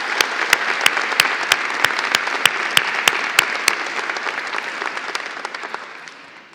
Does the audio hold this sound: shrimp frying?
no